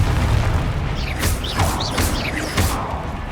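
Confringo spell explosions in the Hogwarts Legacy video game make a loud rumbling battle barrage, with a few sharp whooshing bursts and booms in quick succession over a constant low roar.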